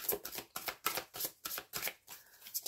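Oracle cards are shuffled by hand in quick riffled bursts, about eight short papery slaps in a steady rhythm, close and fairly quiet, with no talk.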